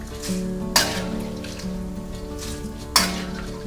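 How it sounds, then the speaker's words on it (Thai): Butter-coated banana chips fry in hot oil with a steady, busy sizzle, broken by two sharp clattering pops about two seconds apart. "แล้วก็ทอดที่เหลือต่อให้หมดเลยนะคะ"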